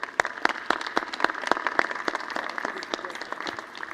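Audience applause at the JuliaCon 2024 main stage, a crowd clapping steadily in a brisk, scattered patter that gradually thins and softens, heard close with no voices over it.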